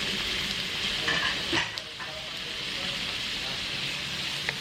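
Ginger, garlic, onion and tomato sautéing in a pan with a steady, close frying sizzle, a brief stir and clatter partway through, continuous throughout.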